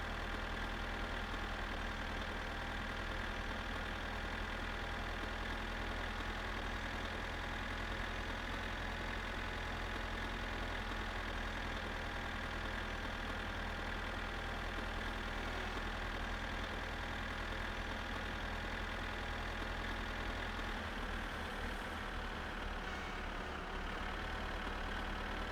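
Steady idling tractor engine in My Summer Car, a continuous mid-pitched rumble with a constant low drone that holds without a break for the whole stretch, no voices.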